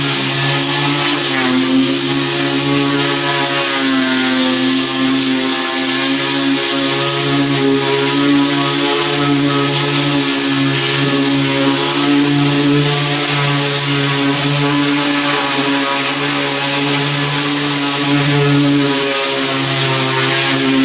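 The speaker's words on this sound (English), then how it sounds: "we turn on the vacuum cleaner first, then turn on a sander" A Ryobi P411 sander runs with a vacuum cleaner attached, a loud, steady, close motor drone with a strong tonal hum that holds unbroken throughout, with no talk.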